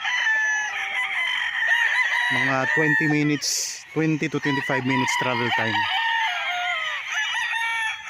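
Several roosters crow loudly and repeatedly, with chickens clucking throughout, on a farm lot in Liliw, Laguna, Philippines, while someone speaks over the noisy flock.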